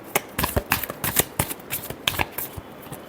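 Tarot cards shuffle by hand at close range in quick, uneven bursts of papery riffling and slapping over about three seconds, with no voices.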